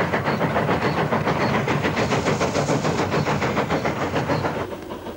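A steam goods train runs along the railway with a loud, steady rhythmic chuffing over a continuous hiss and rumble of rolling wagons, easing slightly at the end.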